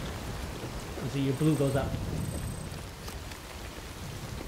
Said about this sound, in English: Because you're in the rain.